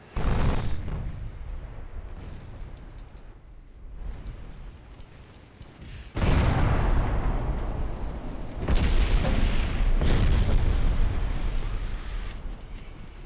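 Naval guns in a naval warfare strategy game firing on transports, heavy booming blasts and rumbling roars that swell loudly in bursts and then trail off, with no voices.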